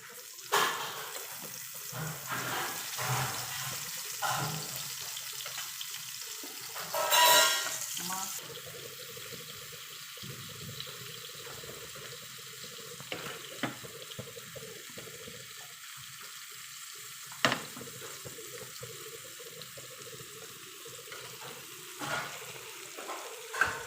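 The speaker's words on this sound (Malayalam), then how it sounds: "ഇതേ പാനിൽ തന്നെ അല്പം വെളിച്ചെണ്ണ ഒഴിച്ച് കൽമക്കായ ഒന്ന് ഫ്രൈ ചെയ്തെടുക്കാം" Mussels fry in coconut oil in a pan, a steady soft sizzle with occasional clinks and stirring scrapes, faint and continuous throughout.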